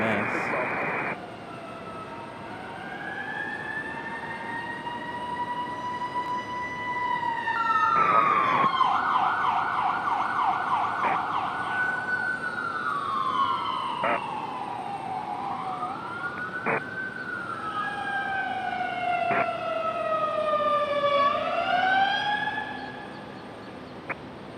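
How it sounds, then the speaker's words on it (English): An ambulance siren wails on a back road at Raleigh-Durham airport in stormy weather, cycling through loud rising and falling sweeps and quick yelp bursts as it draws near and passes. "There's an ambulance coming up the back road here."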